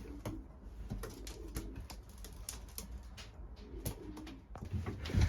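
Racing pigeons in a loft coo softly and repeatedly at close range, with scattered clicks and rustles from the birds around the feeding trays and a louder burst near the end.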